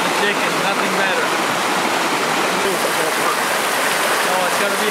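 Water running steadily through a sluice machine with a clogged screen, a loud, continuous rushing splash heard up close, with speech over it.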